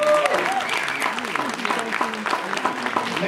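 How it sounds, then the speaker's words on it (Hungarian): An audience applauds at a carnival-season dance party, a steady clatter of clapping that fills the whole stretch, with voices and some crowd noise mixed in. "Egy nagy tapsot a Helgának!"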